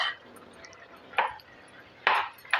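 Hot water is poured into bisi bele bath, a rice and lentil dish, in a few short, splashy bursts separated by quiet gaps.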